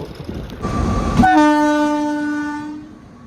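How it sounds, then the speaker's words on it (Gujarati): A train horn sounds one long, loud, sustained blast over a rumbling rail and engine roar that slowly fades as the train passes a closed level crossing in Porbandar. "જો રસ્તામાં આવી ગઈ છે ટ્રેન આપણો રસ્તો રોકી લીધો છે"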